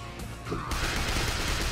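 An explosion in the zombie-shooter game School Girl Zombie Hunter erupts suddenly as a loud, sustained broadband burst over an already busy backdrop of game noise.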